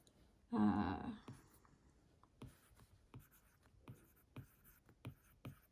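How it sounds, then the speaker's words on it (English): Stylus strokes on a tablet screen in GoodNotes, writing in a digital journal: one louder scratchy burst near the start, then a steady series of short, light taps and strokes, close and quiet, with no talking. "then I'm gonna write"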